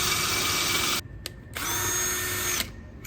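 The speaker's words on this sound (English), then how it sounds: "All right, we're drilling." A power drill bores a hole for a light bar mounting screw on a Bronco bumper, whining loudly in two close bursts separated by a brief pause, with no voices.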